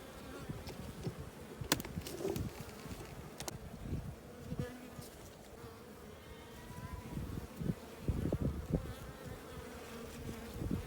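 Honey bees buzzing around a beehive where a beekeeper has set out sugar syrup, a continuous faint drone with individual bees rising and passing close now and then.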